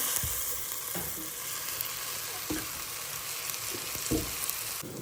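Crab masala spices, coriander, turmeric and chilli powder, fry in a pan with a dense, continuous sizzle, punctuated by several dull knocks and scrapes of a stirring spoon.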